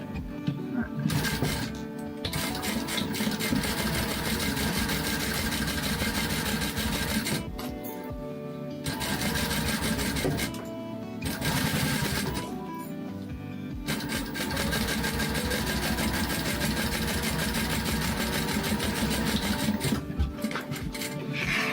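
A sewing machine stitches a hidden seam on a purse pocket of a bifold planchette purse, running in long steady mechanical bursts with brief pauses between runs.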